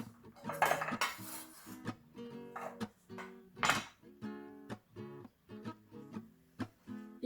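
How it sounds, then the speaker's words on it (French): A zigzag knife slices through carrot in a quick, even rhythm of crisp chops and light clicks against the board, close and fairly quiet, with no talking. "Je coupe avec mon couteau spécial"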